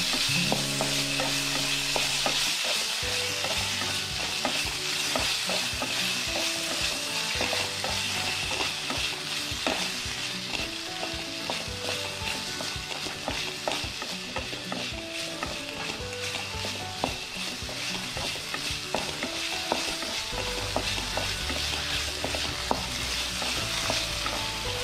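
An onion and tomato masala sizzles steadily in a pan for a Kerala anchovy curry, with a spoon stirring and scraping close up throughout and no talk.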